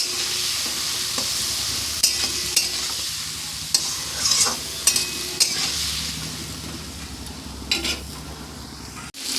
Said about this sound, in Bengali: নুন দেব, হলুদ দেব, আবারও আমি ভালো করে নাড়াচাড়া করে নেব।